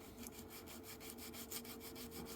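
Sandpaper rubbed flat along the edge of a plastic part from an MPC 1/16 scale Honda CB77 Super Hawk model kit, a faint, quick scraping in a steady back-and-forth rhythm of about eight strokes.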